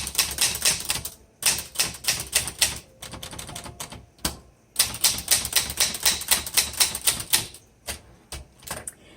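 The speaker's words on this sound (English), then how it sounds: "So let me go ahead and finish up the typing demo." Typing on a 1960s Underwood 21 manual typewriter: rapid bursts of crisp, loud keystrikes in close rhythm, broken by brief pauses, heard up close with no talking.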